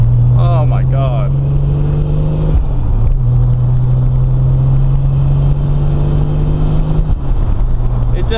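A Toyota Supra with a carbon fiber hood accelerating in second gear, a steady loud engine drone heard from inside the car, with a brief shift dip midway and a voice talking early on.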